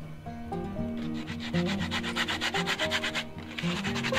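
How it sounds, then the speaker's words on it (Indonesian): Hand sanding of wooden parts for a small handmade stool, sandpaper rubbing in steady back-and-forth strokes, close and moderately loud, with no talking. "Lalu kita amplas dulu"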